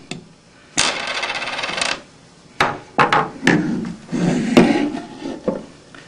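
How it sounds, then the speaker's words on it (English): A screwdriver taps out the white ceramic portion of a pump seal plate: a sustained scraping rattle, then a run of sharp, close metallic knocks and clinks at irregular intervals. "Use a screwdriver to tap it out."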